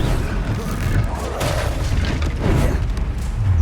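Continuous loud rumbling blasts of the Confringo fire spell in the video game Hogwarts Legacy, dense booming explosions layered over one another with crackling debris, steady and intense throughout.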